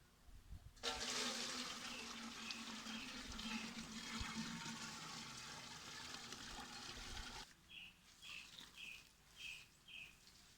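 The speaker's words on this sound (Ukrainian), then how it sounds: "Тепер виливаю поливальничок." Potassium permanganate solution pours from a small watering can onto seedling soil: a steady splashing gush runs for about seven seconds, then stops abruptly. A few faint, evenly spaced chirpy tones follow.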